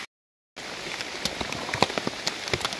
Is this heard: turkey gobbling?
no